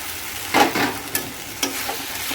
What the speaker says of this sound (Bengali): এবার আমি এর মধ্যে দিয়ে দেবো ভেজে রাখা পটল আর আলু।